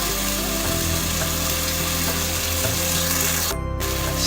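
Whipped sour yogurt going into a cashew and spice masala in a hot pan, giving a steady, close sizzling fry with a brief dip near the end and no talking.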